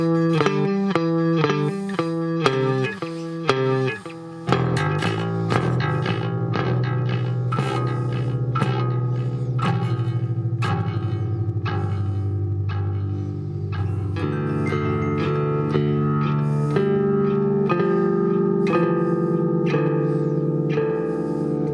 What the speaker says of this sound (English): That's a digital delay with a 1/8 engaged.